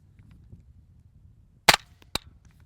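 Two suppressed 9mm gunshots from a Rugged Suppressors Obsidian 9 modular silencer crack in quick succession, sharp and fairly close over quiet background rumble, the first slightly louder with a brief tail.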